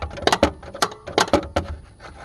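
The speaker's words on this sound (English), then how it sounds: "Get my little tapper and tap on that bolt just a little bit." Small hammer tapping on a bolt while removing the alternator from a 2003 Jeep Liberty, a series of sharp metallic knocks in uneven clusters, close and fairly loud with no talk.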